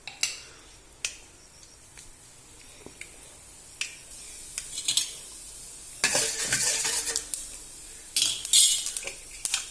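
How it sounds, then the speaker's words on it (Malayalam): Mustard seeds crackle and urad dal sizzles in hot tempering oil for curd rice, scattered sharp pops at first, then building into bursts of loud spattering sizzle toward the end, close by with no talking. "കടുക് പൊട്ടി ഉഴുന്നും പരിപ്പ് ഉഴുന്നിട്ടു."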